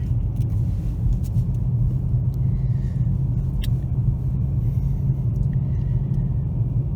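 A Chrysler 300 with a 3.6 V6, all-wheel drive, performance exhaust and intake accelerating at light throttle gives a steady, low, rumbling drone heard from inside the car, with faint clicks and rattles over it.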